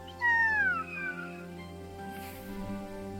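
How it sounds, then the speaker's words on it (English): A cat meows loudly once with a rising then falling pitch, followed by a softer trailing meow, over a steady musical background in a children's animal sounds lesson. "Cat says meow meow."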